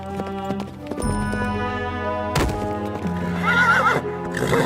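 A horse whinnies loudly close by while hooves clip-clop, set against a sustained musical drone in a dramatized Hindi story scene.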